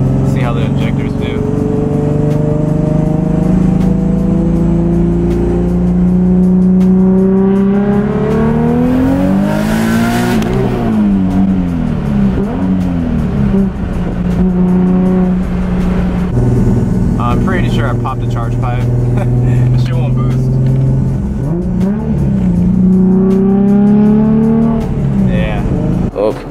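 Nissan 350z with 700 horsepower on drag radials pulling hard in a test hit, engine roaring loud from inside the car, revs climbing through gears with shifts and a brief lift, a voice talking briefly over it.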